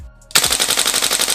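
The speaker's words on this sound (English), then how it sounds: "That's respectable for a gas blowback. 12 rounds per second." Umarex HK M27 IAR gas blowback airsoft rifle fires a sharp, rapid full-auto burst at about twelve rounds per second, loud and close, after a brief quiet start, with no talking.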